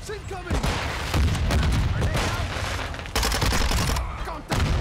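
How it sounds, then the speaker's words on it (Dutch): In Call of Duty: Modern Warfare 2 on the Christmas Shipment map, a player's own grenade bursts amid nonstop rapid gunfire and heavy booms, with a brief excited voice near the start over the dense, loud battle noise. "ik kill mezelf met mijn eigen granaat"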